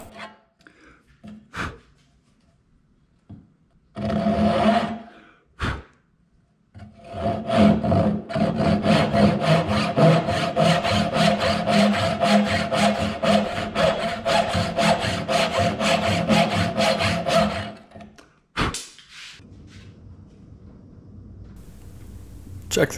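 A hand saw cuts the cheeks of a wooden tenon, first a few short strokes, then a long steady run of rhythmic back-and-forth rasping strokes, close and loud, with a couple of knocks at the end.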